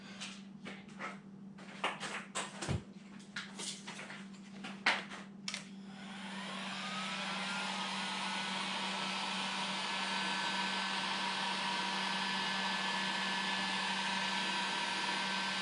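A heat gun is switched on after some handling clatter and then blows with a steady loud whooshing roar and a low hum, running continuously and up close, used near battery terminal crimping work for a Cat D6C dozer.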